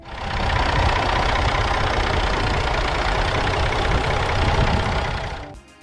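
A heavy Massey Ferguson MF 35 tractor engine runs steadily with a loud, low diesel rumble for several seconds, then cuts off abruptly.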